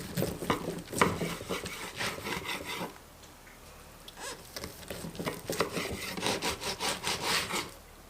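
Knife slicing through smoked whole spare ribs cooked on an Oklahoma Joe's Blackjack Kettle, close-up rhythmic sawing strokes with a brief pause midway before more steady cutting.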